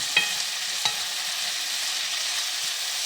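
Food being stirred and mixed in a frying pan as it sizzles, a steady crackling fry with a couple of sharp utensil scrapes against the pan near the start. No talking.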